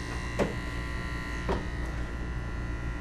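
Electric hair clippers buzzing in a clipper-over-comb pass while cutting a deep-waves temp fade, a close, continuous steady hum with two brief louder strokes.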